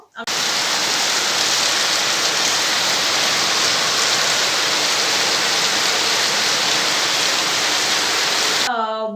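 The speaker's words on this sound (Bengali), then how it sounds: "বৃষ্টিটা চলছে, বা এই যে হালকা ফুলকা বৃষ্টি, কখনো একটু জোরে বৃষ্টি সঙ্গে ঝোড়ো হাওয়া" Light winter rain with gusty wind in West Bengal makes a loud, unbroken wash of noise that stops abruptly near the end, where a voice briefly begins speaking.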